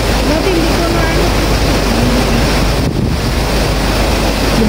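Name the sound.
strong rushing floodwater on a road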